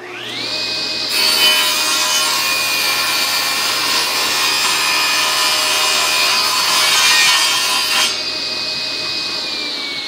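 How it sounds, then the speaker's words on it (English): A table saw cuts wood with a miter sled: the blade's loud, steady whine drops into a harsher grinding rasp for about seven seconds as the board feeds through, then returns to a free-spinning hum. "We'll run it through the table saw, and that'll be our first 45."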